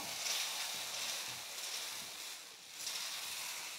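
Dosa batter sizzles on a hot pan, a steady soft hiss of frying that swells and dips slightly over a few seconds, fairly quiet and close.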